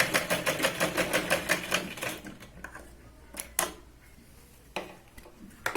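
A sewing machine stitches blouse fabric, running in a steady rapid chatter for about two seconds, then stopping, followed by a few scattered clicks and handling taps.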